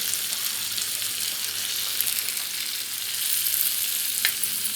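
Koramenu fish sizzling steadily in a hot pan, a continuous bright crackle of frying oil with a brief sharp tick near the end and no voices.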